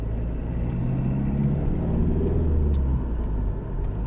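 Interior rumble of a car on a relaxed Sunday drive through Sofia, Bulgaria: a constant low engine and road drone at moderate speed, close and even, with no talking.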